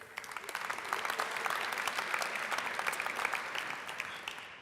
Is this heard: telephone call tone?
no